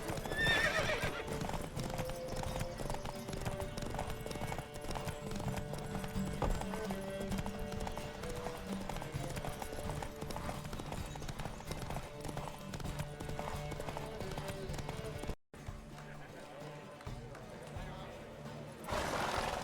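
A horse gallops in a race in The Witcher 3: rapid, continuous hoofbeats close by, with neighs and voices, over a loud musical score until a brief cut near the end.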